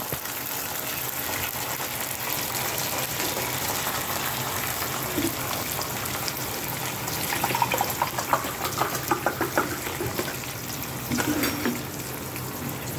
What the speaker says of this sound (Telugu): ఇప్పుడు నీళ్ళు వేసేస్తున్నానండి.